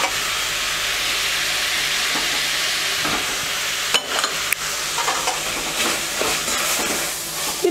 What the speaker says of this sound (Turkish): Bir 5 dakika bu şekilde kavuracağım.